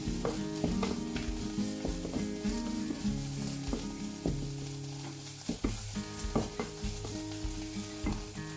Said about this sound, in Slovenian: Ko je čebula zlato-rumene barve, dodamo sesekljan česen, ga zadišimo.